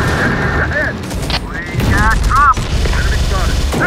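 Enemy gunfire and explosions pound steadily in Terminator: Dark Fate - Defiance, loud and close, while voices shout over the battle.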